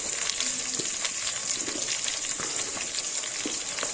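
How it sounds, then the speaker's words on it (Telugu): Vegetables such as bottle gourd, brinjal, okra, drumstick and carrot being mixed into sambar in a pot, giving a steady close sizzle with soft wet stirring scrapes throughout, no talk. "ఇవన్నీ వేసుకున్న తర్వాత ఒకసారి మంచిగా మిక్స్ చేసుకోవాలి"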